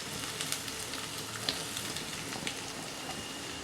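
Garlic, ginger and onion sizzle in hot oil in a pan for a Schezwan noodles dish, a steady close frying hiss with a few soft stirring clicks and no talking.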